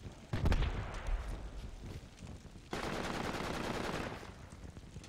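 Rapid machine-gun bursts and rifle fire in the Project Reality military shooter game, a loud opening volley followed by a sustained stretch of continuous gunfire later on, with no talk.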